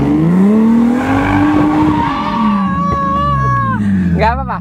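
A car's engine revs hard during drifting practice, its loud, steady whine climbing and falling in pitch, with a brief squeal near the end and a voice faintly underneath.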